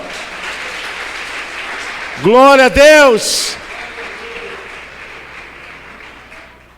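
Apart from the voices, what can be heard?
church congregation applauding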